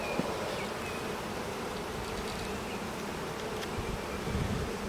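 Bees buzz around a hive in a steady, dense drone that holds for the whole stretch, many insects overlapping close by with no voices.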